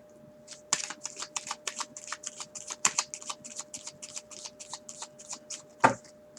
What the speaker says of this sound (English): So what I'm going to do is pull cards.